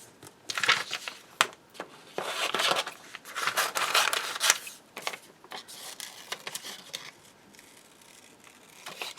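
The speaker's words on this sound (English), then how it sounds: "I'm going to cut my little shapes out." Scissors snip out small paper shapes for a handmade book page. The cuts come close and crisp in irregular clusters of short snips with light paper rustling, fading to quieter, sparser cuts near the end, with no talking.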